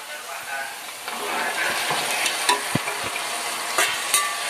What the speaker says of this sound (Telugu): ఫ్రెండ్స్ ఉల్లిపాయలు అయితే బాగా ఫ్రై అవుతున్నాయి కదా, ఇప్పుడు ఇందులోకి పనసెక్కలు అయితే వేసేసుకుందాం